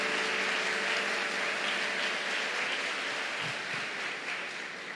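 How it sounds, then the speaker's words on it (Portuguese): Church congregation gives a strong round of applause for the pastor, a continuous even wash of clapping from many hands that slowly fades toward the end. "com uma forte salva de palmas"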